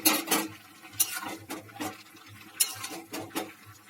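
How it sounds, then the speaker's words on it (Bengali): A spoon scrapes and stirs through shrimp and potato curry in a pan, with close, irregular strokes and soft clinks against the metal, and nobody speaking. "এবার চিংড়ি মাছগুলোকে দিয়ে ভালো করে মিশিয়ে নেবো।"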